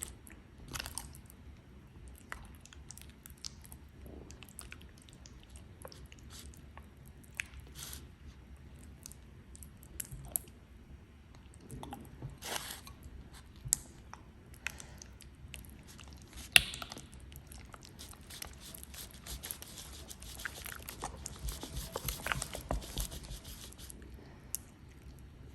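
CMC gel is stirred and worked together with water, giving faint, intermittent squelching and rubbing with occasional soft scrapes close by.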